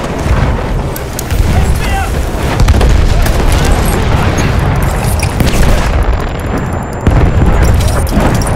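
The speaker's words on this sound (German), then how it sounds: "Ich werfe Granate." Grenade explosion during an attack operation on the Kaiserschlacht map in the video game Battlefield 1, a loud booming blast amid constant rumbling battle noise and scattered gunfire throughout.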